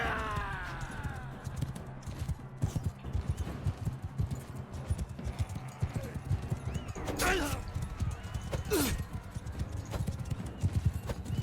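Rhythmic hoofbeats of a galloping horse in Mount and Blade 2: Bannerlord run steadily throughout, with a whinny and some clashing game sounds layered on top.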